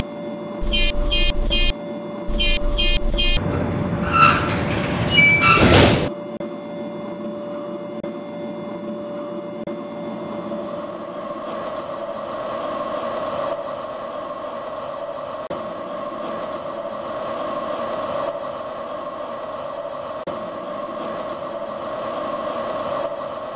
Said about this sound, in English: My train is about to depart, goodbye, and again.